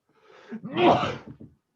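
A single sharp sneeze with a short inhale before it, close and clear, with no talking.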